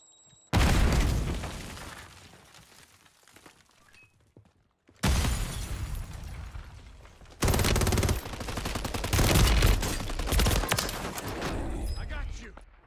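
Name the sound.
grenade explosion and gunfire in Call of Duty Warzone 3 video game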